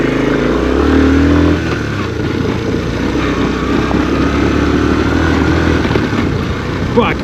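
A 1980 Honda CT110 Trail motorcycle riding off-road on country tracks, its small engine droning loudly and steadily close by, with a brief rev at the start and rumbling wind and bumps throughout.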